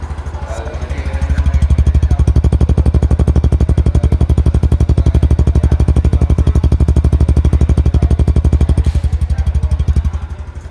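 A Honda Super Cub C125 motorcycle engine idles with its exhaust close by, a steady rapid putter that swells slightly after the first second and holds evenly before easing off near the end.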